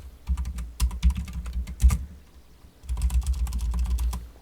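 Typing on a computer keyboard while setting up a Minecraft server: quick bursts of close key clicks, a brief pause, then another steady run of keystrokes, with no voice.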